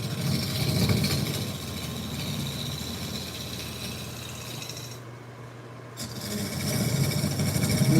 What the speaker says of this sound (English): So I'm going to use my scraper, get this side done a little bit.